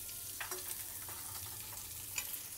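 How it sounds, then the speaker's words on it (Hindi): Paneer cubes fry in butter in a pan for chilli paneer fried rice, giving a soft, low crackling sizzle with light stirring taps, quiet and steady, no voices. "अच्छे से फ्राई करेंगे हम इनको"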